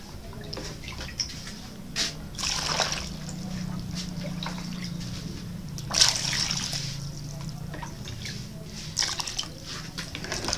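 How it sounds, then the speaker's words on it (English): Cut yam pieces being washed in a pot of water while preparing Ghanaian yam pottage: intermittent splashes and sloshing with short bursts of dripping, fairly close, over a low steady background hum. "If you like, you can wash it twice, which is the best practice. So this is our second washing."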